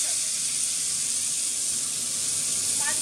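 Chopped tomatoes, onion and garlic frying in hot oil used for frying fish, giving a steady close hiss and sizzle that continues evenly.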